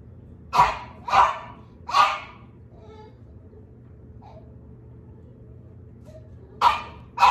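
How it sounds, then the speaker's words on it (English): A dog barks in bursts: two quick barks, a third a moment later, then a long quiet stretch before another pair of barks, fairly close against a low steady background hum. "Guy left the dog in there."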